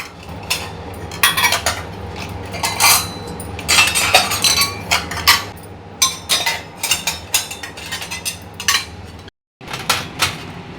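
Washed steel dishes and utensils are lifted out of a drying rack in a home kitchen, with repeated close clinks, clanks and rattles in irregular bursts, broken by a brief pause.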